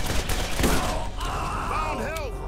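Gunfire in the Borderlands video game, a loud burst of shots near the start followed by mechanical weapon noises and tonal game effects, under background chatter.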